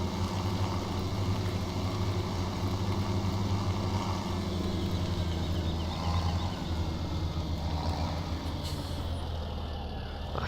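A tractor engine in a farming video game drones steadily and loudly throughout, a constant low rumble with a brief hiss near the end.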